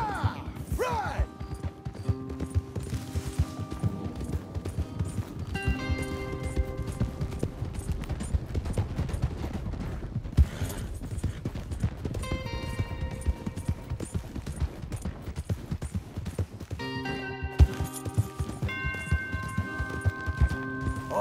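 Steady galloping horse hoofbeats in Red Dead Redemption 2 continue throughout, mixed with music and occasional crashing noises.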